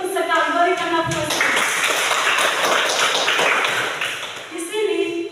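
Classroom of elementary school students applauding together, a dense burst of clapping lasting a few seconds between stretches of an adult voice speaking before and after.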